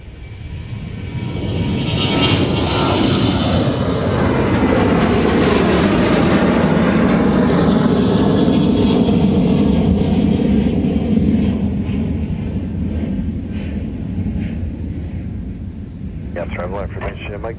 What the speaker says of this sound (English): Currently rolling down runway 30 left is southwest